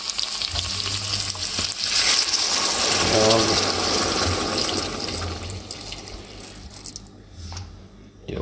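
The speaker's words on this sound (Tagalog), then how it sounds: "Tapos maglagay natin tayo ng tubig." Water pours into a hot cooking pot of potatoes and carrots with a steady, loud sizzling hiss and some bubbling, filling the clip.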